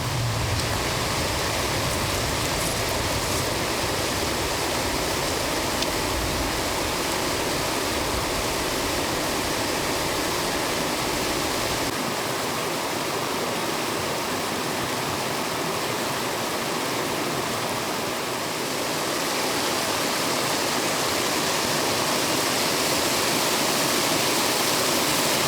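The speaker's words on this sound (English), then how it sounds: "I don't know if you guys can hear that roar of that river." A river roars in remote Idaho backcountry, a loud, constant rushing of water that fills the whole stretch without pause and with no voices.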